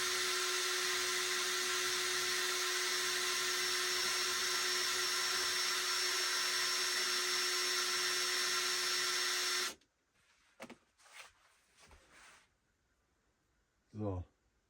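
A cordless drill spins in reverse to twist deer sinew into a bowstring. It gives a loud, steady, close motor whine for about ten seconds, then cuts off, followed by faint handling noises and a brief squeak.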